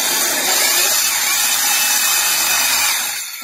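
A power drill bores into a wall with dust collected in a bag, a loud steady grinding whine running without a break for about three seconds before winding down at the end.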